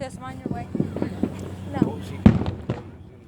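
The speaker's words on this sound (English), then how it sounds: "Oh, this is the fireworks." Fireworks bursting at the finale of a show, a quick series of sharp booms and crackles, with one especially loud close blast, mixed with excited voices talking and calling out over them.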